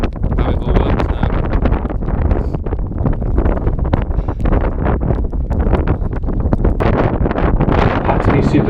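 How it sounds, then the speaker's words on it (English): Severe, hurricane-like wind buffets the microphone up on Dartmoor, a loud continuous roar with constant gusting rumble throughout. "Had to be super careful of the severe wind."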